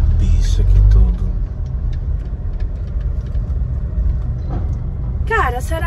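A car rolls slowly through a residential neighbourhood, its steady low engine and road rumble continuous throughout, with people talking inside the cabin over the drone.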